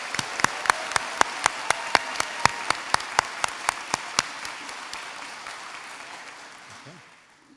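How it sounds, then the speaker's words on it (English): Audience applause for pharmacy graduates at a university graduation ceremony, opening with steady rhythmic unison clapping of around twenty beats before breaking into a general wash of applause that tapers off. "I welcome a final round of applause for all of our graduates"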